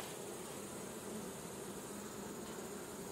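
A dense swarm of honey bees hums steadily inside a small nucleus hive being transferred to a full hive, a close, continuous buzzing drone without pauses or voices.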